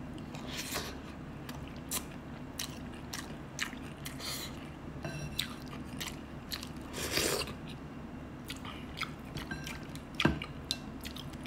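Someone eats balbacua stew at close range, with repeated wet chewing and crunchy bites in an irregular rhythm, plus a few clicks and scrapes of utensils.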